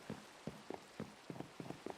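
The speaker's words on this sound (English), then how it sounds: "It's always raining, by the way." Rain falls steadily in the video game Minecraft, a soft patter that swells in brief, regular bursts, heard alone without any talk.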